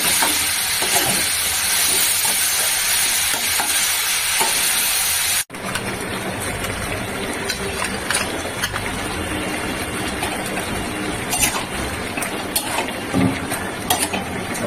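Steady crackling sizzle of vegetables frying in a pan, loud and continuous, with a brief cut partway through before the sizzling resumes.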